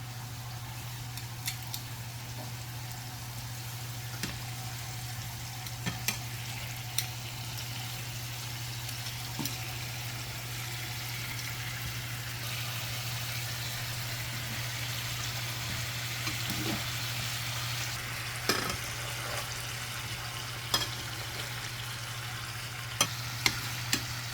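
Fish for Jamaican brown stew fish fries in a pan with a little added water, giving a soft, steady sizzle under a constant low hum, with occasional faint clicks and taps.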